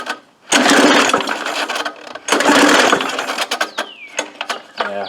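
Old push lawn mower running on very old gas and failing to start, two long, loud bursts of rattling pull-start cranking, then a few shorter mechanical clatters.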